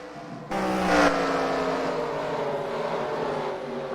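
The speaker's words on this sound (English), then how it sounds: "Green flag in the air, we're racing with heat race number 1." Race cars in a heat race at Knoxville Raceway, a loud sustained engine roar that swells in suddenly and holds steady with overlapping droning motors at a distance.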